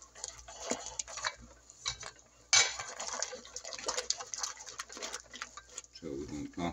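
Spoon stirring a thickening German chocolate cake filling in a pot, with intermittent scraping and clinking against the pan under a speaking voice.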